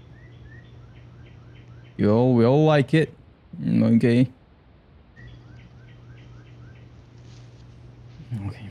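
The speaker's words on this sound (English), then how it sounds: "The sound of birds." Small birds chirp in short repeated bursts in the background, soft and steady, while a steady hum runs underneath and people talk over them in two loud stretches.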